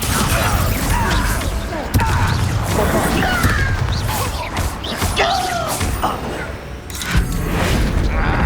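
Bombarda spell explosion during a duel in the Hogwarts Legacy video game: loud booming blasts and crashing impacts over constant battle noise and music, with people talking throughout.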